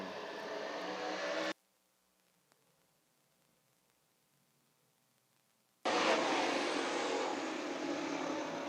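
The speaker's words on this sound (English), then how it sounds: "The Whitesboro Plow Shop, Dirt Car 358 Modifieds are green at Can-Am." Dirt Car 358 modified race cars roar loudly at the green flag at Can-Am Speedway, a dense engine blast that cuts out abruptly for several seconds of near silence before returning just as loud.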